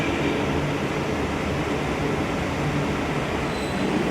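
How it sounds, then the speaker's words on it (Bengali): Metro train arriving at an underground station platform in Kolkata on the Esplanade line, a loud continuous rumble with a faint steady wheel squeal filling the space and no one talking. "আমাদের এই ট্রেনটা চলে আসছে"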